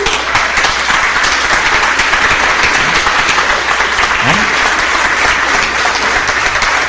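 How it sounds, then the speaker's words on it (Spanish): A church congregation at a Catholic Mass bursts into loud, sustained applause, dense clapping filling the space evenly throughout with a brief murmur of voices mixed in. "Eso se merece un aplauso."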